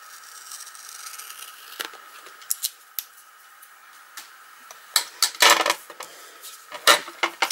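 Scissors snip away the excess adhesive sheet around a handmade greeting card, with scattered sharp cuts that pick up in a denser burst toward the end, close and without talk.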